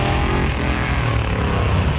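Loud Ford Mustang with no power steering warming up at Holley Ford Fest, a dense, steady engine rumble filling the whole stretch at close range with no talk.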